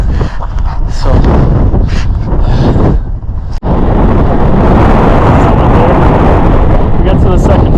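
Strong gusting wind buffets the microphone near the 14,000-foot summit of Mount Elbert, a loud continuous roar with one brief drop, while a hiker speaks over it.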